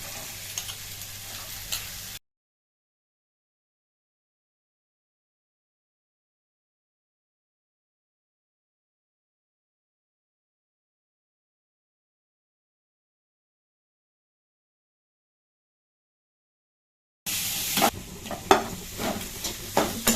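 Cauliflower sautéing in a pan with onion, ginger and garlic, giving a soft sizzle and stirring for a couple of seconds, then a long silence before the sizzle and scraping return louder.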